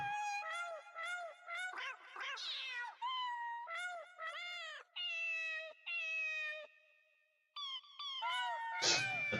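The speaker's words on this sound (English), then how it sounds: "It's a bunch of cats singing happy birthday." A Nintendo Labo Toy-Con Piano with cat voice keys plays Happy Birthday as a string of sung meow notes, one after another in a clear melodic rhythm, fairly faint with short gaps between phrases.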